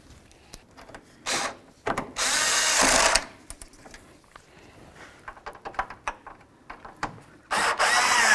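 Screws on the headlight assembly of a 1992-99 GMC K1500 pickup are run down with a ratchet and a power driver: several short whirring bursts of a second or so, separated by clicks and handling noise, up close.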